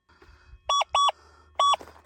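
An XP Deus 2 metal detector sounds a target tone while sweeping ground: three short, loud electronic beeps, two in quick succession then one after a pause, over quiet outdoor background.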